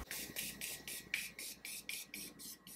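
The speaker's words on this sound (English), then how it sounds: "I'm using the Morphe Continuous Setting Spray." Short bursts of fine mist from a Morphe Continuous Setting Spray hiss out in a steady rhythm, about a dozen quick pumps in a row, close and fairly quiet.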